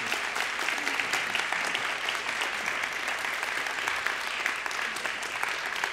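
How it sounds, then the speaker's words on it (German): Warm, sustained audience applause at a piano masterclass, an even wash of many hands clapping at moderate volume from start to end with no voices over it. "bravo, danke, bitte schön. Applaus."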